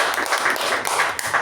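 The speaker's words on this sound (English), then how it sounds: "let us give a huge round of applause to our president" Applause for the club president at a Toastmasters meeting: steady, dense clapping from a small group filling the whole moment at moderate level, with no talk over it.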